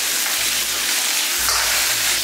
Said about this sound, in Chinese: 把鱼放下去煎，先不要去动它，把它煎到两面金黄